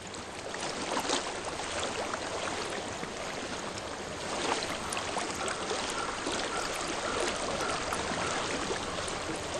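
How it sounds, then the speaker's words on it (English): Flowing stream water from the video game Hellblade: Senua's Sacrifice, a steady broadband rush and trickle that stays close and fairly loud throughout with no talk over it. "I hear water."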